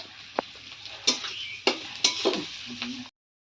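Black cumin seeds crackling in hot oil as a tempering for taro stolons, a soft close sizzle punctuated by a few sharp spatula clacks, cutting off abruptly.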